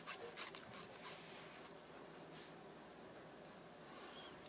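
Salad vegetables scraped against a hand grater for a layered salad, giving a steady, fairly quiet rasping rub with a few quicker strokes at the start and no talking.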